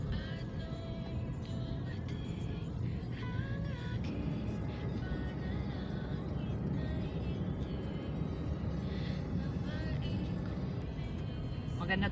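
A car driving steadily along Quezon Avenue with no traffic, giving a continuous broadband road and engine rumble with faint voices underneath throughout.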